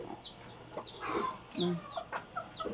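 Native Bisaya chickens cluck and squawk in short, scattered calls, several birds close by, with a high chirp now and then over a quiet background.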